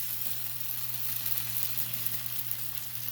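Batter spread with a spoon sizzles steadily on a hot pan while a breakfast is being cooked, a soft continuous crackling hiss with a low hum underneath and no talking.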